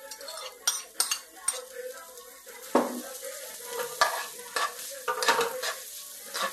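Onion and garlic frying in olive oil in a pan for seafood tomato spaghetti, a soft sizzle broken by repeated stirring knocks and clinks of utensil against pan.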